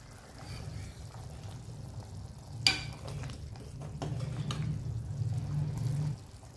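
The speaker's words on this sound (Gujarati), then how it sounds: "તમે જોઈ શકો છો કેટલી સરસ કઢી ઉકળી રહી છે।" Kadhi boiling and bubbling in a pot while being stirred, a steady low simmer with a sharp scrape of the spoon against the pot partway through, then continued close stirring with no voices.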